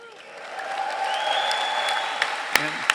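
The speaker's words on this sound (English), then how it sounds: "I was thinking that would get applause." A graduation ceremony crowd gives a modest round of applause that swells and fades over a few seconds, with a voice and scattered louder claps mixed in.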